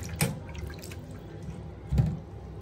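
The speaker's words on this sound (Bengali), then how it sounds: "এসব সবজি কেটে ফেটে উঠলাম, এখন সব ধোয়ার পালা।" Cut vegetables are washed under water, with two soft splashes and drips over a quiet kitchen background.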